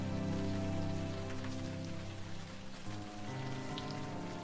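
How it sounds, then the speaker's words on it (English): Rain falling steadily in the video game Unavowed, a dense, even hiss of drops on surfaces layered over low tonal game music, continuous and fairly loud throughout without any voices. "Well, it's raining."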